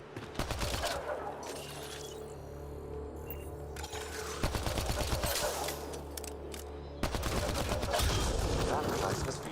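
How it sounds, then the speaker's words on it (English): Rapid bursts of gunfire hit a Kett device in the video game Mass Effect Andromeda, loud sharp volleys with brief pauses between them. "Shooting the device will destroy it."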